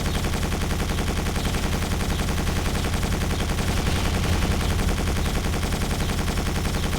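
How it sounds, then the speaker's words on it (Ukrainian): A machine gun in the video game Quake 4 fires continuously in rapid, unbroken bursts, loud and close, filling the whole stretch with dense rattling shots. "щоб постійно кулемет цей стріляв"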